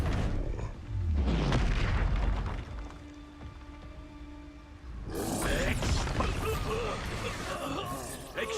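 The Expulso blasting spell in Hogwarts Legacy goes off as a loud booming crash, then a quieter lull with a faint hum, then a second burst of crashing, crackling debris. Voices talk over parts of it.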